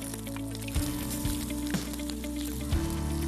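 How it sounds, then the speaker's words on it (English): Meat and onions sizzle and crackle steadily in a large cooking pot, a dense close frying hiss with a few louder bumps and clatters of the ingredients being spread. "we can put the meat and onions into the large cooking pot"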